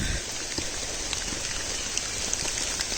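Steady heavy rain falling during a monsoon trek up Nimgiri Fort, a dense continuous hiss of drops on surfaces with occasional sharper patters, loud and close throughout.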